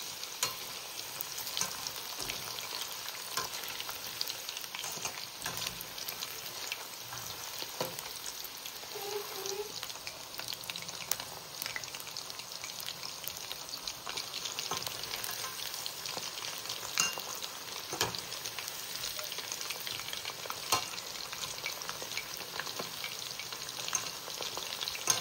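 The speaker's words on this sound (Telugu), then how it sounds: "ఇప్పుడు బాగా ఫ్రై అయిపోయాయి" Chicken kabab pieces fry steadily in a pan, giving a continuous even sizzle with crackling pops that runs unbroken throughout, with no voices.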